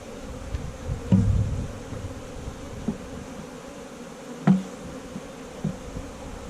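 Honey bees buzz around an open hive, a dense continuous hum close by with a few louder bumps and knocks of handling against the box, and no voices.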